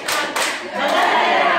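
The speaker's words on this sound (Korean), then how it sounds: "박수 세 번 시작!" A group claps together in a short burst, a few sharp claps followed by a fuller run of applause, loud and close, in a laughter-therapy and singing-instructor class.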